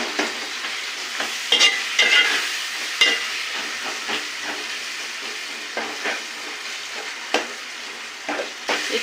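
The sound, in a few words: tomatoes with turmeric and salt cooking in a pan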